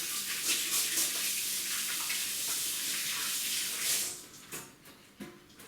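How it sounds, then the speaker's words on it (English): Water runs from a tap as hands are rinsed during a traditional bacon cure, a steady hiss for about four seconds before breaking into a few short splashes and stopping. "Let me go and rinse my hands."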